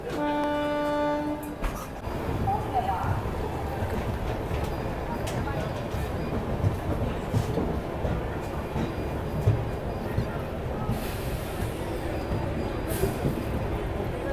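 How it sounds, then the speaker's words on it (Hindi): A train pulls out of Ambala Cantt Junction railway station. A short horn-like tone opens, then a steady rumble and rattle of wagons continues at moderate loudness with station ambience. "अंबाला कैंट जंक्शन से अपनी ट्रेन निकल रही है"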